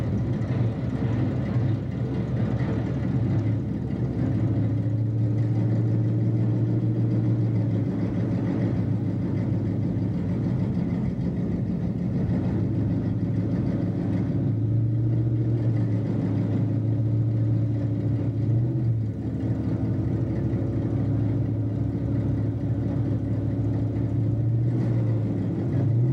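Turbocharged Toyota and other cars at a drag strip in Waterford, Connecticut, with a steady engine roar and rumble throughout and some rising and falling pitch as the cars run.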